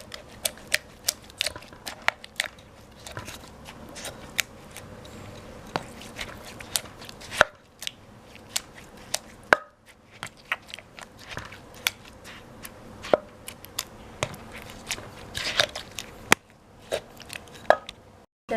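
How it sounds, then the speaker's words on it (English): Tomatoes pounded in a mortar for Thai papaya salad, a close series of sharp, irregular knocking thuds spaced about a second apart, with a faint wet crush between strikes. "This time we will put the tomatoes and then pound together."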